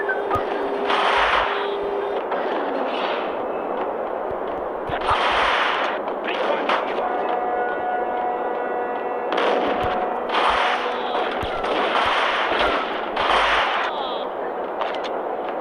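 Bursts of gunfire from the video game Max Payne crack repeatedly in irregular clusters, loud and close, sometimes overlapping, against a steady game-ambience background.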